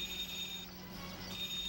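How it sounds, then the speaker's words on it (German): A telephone rings alone at moderate level, a continuous high trilling tone over a steady electronic background hum. "Hör mal, Telefon, geh doch mal ans Telefon."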